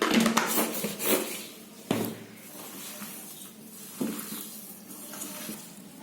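Veg cutlet mixture with pepper powder, black pepper and salt being stirred and mashed in a bowl, giving soft wet squelching and scraping with a few sharper knocks, close and moderately quiet, no voices.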